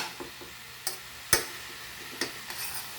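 A spoon stirring Goan white radish bhaji with cumin seed and chili in a pan, a few distinct scraping clinks over a soft, faint sizzle, close by with no talking.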